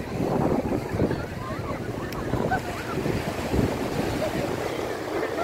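Sea waves at Marina Beach in Chennai near a port, a steady close roar of surf mixed with heavy wind buffeting, with voices talking faintly underneath.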